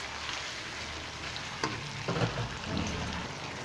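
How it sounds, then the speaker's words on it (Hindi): Tomatoes and green chilies cooking in ginger garlic paste for a Pakistani chicken curry, giving a steady low sizzle with a few soft stirring scrapes, close and moderately loud, with no talking. "हम इसमें टमाटर और हरी मिर्चें शामिल करके इसको अच्छे से मिक्स कर देंगे और उसको तब तक पकाएंगे"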